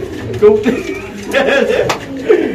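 Pigeons at a seller's loft in Khilgaon, Dhaka coo in soft repeated bursts close by, mixed with people talking over them.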